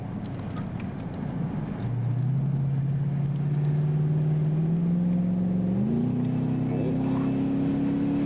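A Lexus GS430 with a VVT-i engine accelerating hard, the engine note climbing smoothly in pitch, dropping briefly at a gear change near the end, then rising again over a steady low rumble.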